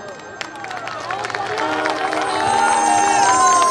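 Crowd at a live outdoor folk stage performance responds with cheering and scattered clapping, rising into a fuller swell of noise, with voices and music tones mixed in.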